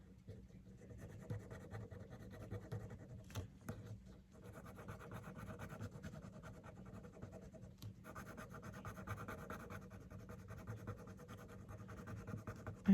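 A pen scratches and rubs steadily across paper while sketching a pine cone, a close, quiet, continuous scribbling texture with brief pauses.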